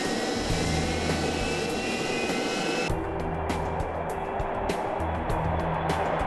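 A NASA Gulfstream jet, being repurposed for aviation testing, roars steadily with its jet engine in a hangar at NASA Dryden. The loud, dense broadband rumble continues unbroken throughout, and no one speaks.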